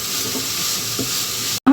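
Chopped cabbage and capsicum being stirred in a hot pan, giving a steady close sizzle and hiss with soft scraping of the stirring, no voices, cut off by a brief gap at the end.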